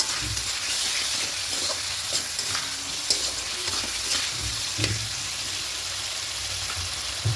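Spice paste and water for a vegetarian khichuri being stirred in a cooking pan, a steady close scraping and swishing with soft sizzling throughout and no voices.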